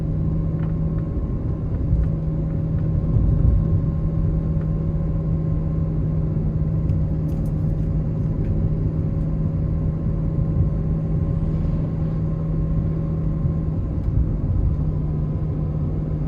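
A 2020 Ferrari Portofino coasting at about 25 to 30 mph gives a steady, close engine and road drone with a low rumble and a constant hum, unbroken for the whole stretch and with no one speaking.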